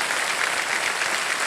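Studio audience on a quiz show gives steady, loud applause, a dense wash of clapping that holds evenly throughout with no voices over it.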